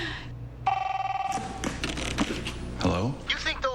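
A bell-type telephone in a Sears Kenmore TV ad rings in a rapid rattling burst, loud and close, followed by clattering household sounds and brief speech.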